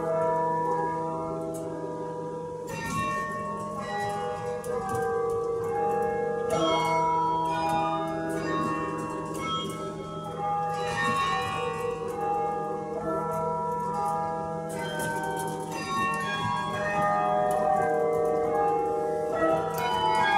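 Carillon bells at Rockefeller Memorial Chapel play a slow, sustained melody of ringing, overlapping tones that fill the whole stretch.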